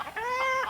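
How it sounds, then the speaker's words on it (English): A three-year-old bantam rooster gives one short, close squawking call, steady and fairly loud for under a second. "This little rooster is about 3 years old."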